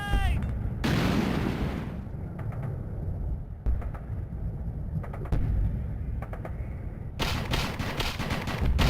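Video game combat with a grenade blast, several loud bursts of gunfire and explosive noise separated by quieter stretches, the heaviest at the start and the end.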